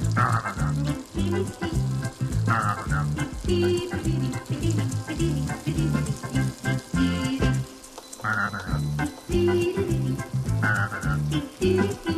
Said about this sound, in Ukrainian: Ці шматочки ми обсмажимо з чотирьох сторін.